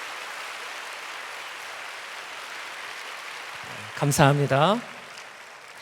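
Large church congregation applauding to welcome visiting missionaries and pastors at a worship service, a steady dense wash of clapping throughout, with someone briefly speaking over it near the end.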